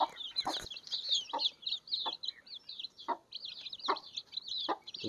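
Chicks cheep constantly in a busy high-pitched chorus while eating feed, with sharper pecking taps and soft clucks scattered throughout, close by.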